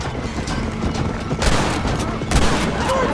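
Gunfire in the Western video game Red Dead Redemption: a dense crackle of shots with two sharp, loud blasts standing out, over a busy background with faint voices.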